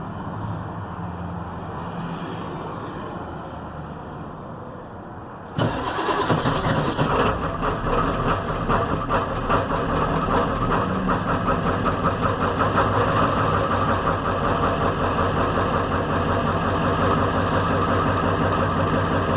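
A 1997 Ford Powerstroke diesel truck cranks and fires in the cold after sitting for about two weeks, catching abruptly and settling into a loud, steady clattering idle that continues alone.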